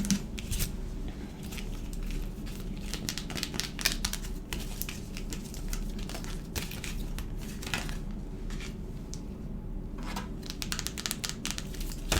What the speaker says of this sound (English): I'm going to pull two more cards.